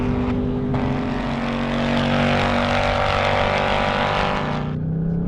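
A Ford performance car roars around a banked NASCAR oval, its engine a loud, steady, close drone that holds for several seconds before easing off near the end.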